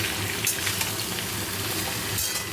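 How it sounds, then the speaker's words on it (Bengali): Potatoes sizzle and fry steadily in hot oil, with eggplant and pumpkin frying alongside, making a continuous close crackle with small stirring bursts. "এদিকে বেগুন আর কুমড়ো ভাজছি আলুটা দিয়ে দিলাম তেলের মধ্যে"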